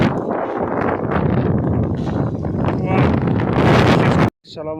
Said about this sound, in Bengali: দেখেন বন্ধুরা বাতাস শুরু হয়ে গেছে এই দেখেন বাতাসে সব